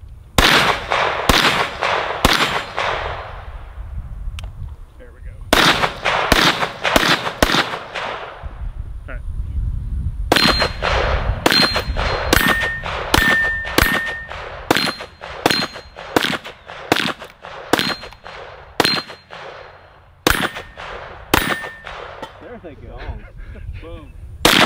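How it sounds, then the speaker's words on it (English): A Kel Tec CMR-30 rifle fires at steel targets outdoors, with many sharp, loud shots in quick strings and clusters separated by short pauses, some followed by faint metallic pings. "Good shooting, Tex."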